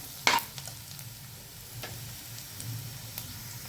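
Onions turning golden while frying in oil in a pan, a low steady sizzle with a sharp spoon clink near the start and occasional faint stirring ticks.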